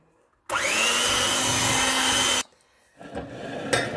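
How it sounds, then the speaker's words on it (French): Electric hand mixer beating coconut flour and orange cake batter, a loud close whine that starts abruptly, holds steady for about two seconds, then cuts off, followed by faint clatter. "avec le batteur électrique, moins d'1 minute, le tout est mélangé et c'est prêt"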